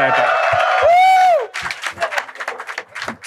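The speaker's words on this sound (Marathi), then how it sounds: "ओके, टाळी प्लीज. टाळ्या." After a brief whooping voice, a studio audience at a Marathi comedy show breaks into scattered, uneven applause that fills the room for a couple of seconds.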